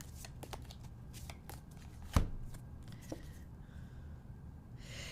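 Tarot cards are shuffled and handled close by with soft riffling, flicking and sliding, plus one sharper slap in the middle, and faint breathing underneath.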